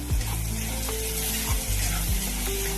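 Cluster beans sabzi with turmeric and salt sautéed in a pan, a steady close sizzle with scraping stirs of a spatula and low thumps from the pan, no voices.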